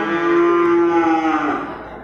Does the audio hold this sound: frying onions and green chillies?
no